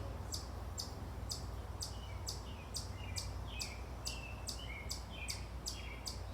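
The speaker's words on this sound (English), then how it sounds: "The birds are very vocal today." Birds sing outdoors in a steady run of bright, repeated chirps and short whistled notes, fairly faint and somewhat distant over a quiet background, with no talking.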